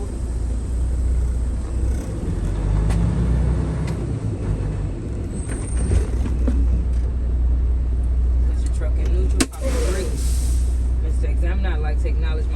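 A truck's engine idles with a low steady rumble as it pulls slowly forward during an in-cab air brake test, with a sharp air-brake hiss near the end and someone talking over it.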